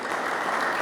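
Brief burst of congregational applause during church worship, a continuous wash of many hands clapping at even, moderate loudness with no voices standing out.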